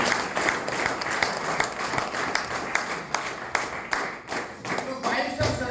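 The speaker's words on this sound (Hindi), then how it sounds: "एक बार जोरदार ताली हो जाए।" An audience at a Sunday business meeting claps loudly and steadily, many hands producing a dense, sustained round of applause that runs through the whole stretch without pause.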